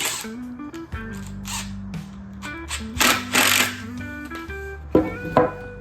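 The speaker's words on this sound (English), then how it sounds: "Go ahead and sink your screws." A power drill drives screws into wood while building a simple workbench, whining in several short bursts with pauses between, close and fairly loud, with thumps and clatter of handling boards.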